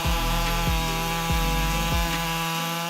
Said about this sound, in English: The Husqvarna 562 Mech 218 chainsaw is considered a powerful machine.